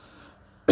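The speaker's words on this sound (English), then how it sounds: "Sorry about my cough today." A single loud, close cough bursts out at the very end after near silence, brief and harsh, from an adult pausing while talking about repotting a Calathea orbifolia houseplant.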